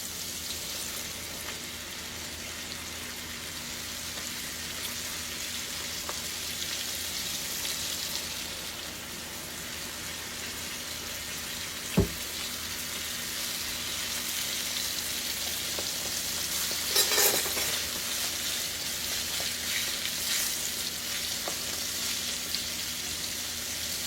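Squash deep-frying in hot grease gives a steady, close sizzle and crackle throughout, with one brief sharp clink partway through, and there is no talking.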